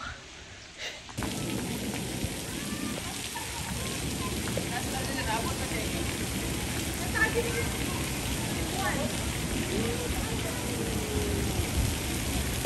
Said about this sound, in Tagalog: Kasi umuulan mga tol.